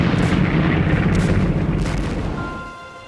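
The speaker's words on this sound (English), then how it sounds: "Tanks led the way, grinding over the rubble and firing point blank into courtyards." A heavy WWII tank cannon fires during the Stalingrad assault. One loud, deep boom rolls into a dense rumble that slowly fades over about three seconds.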